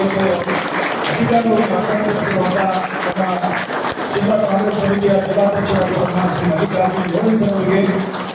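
An audience at a Congress party felicitation event claps in loud, sustained applause, a dense, continuous roar of hands close by with crowd noise mixed in.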